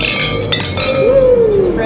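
Drinking glasses clink together in a toast among longtime friends at a camp during a midnight power failure, a bright ring with a sustained tone under faint background noise.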